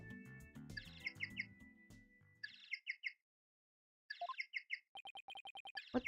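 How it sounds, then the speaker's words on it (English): A cute penguin-like phone ringtone in the Ace Attorney: Dual Destinies video game, a series of bright chirping squeaky tones in bursts with short pauses, following a lower melodic jingle, no voices. "That's my ringtone."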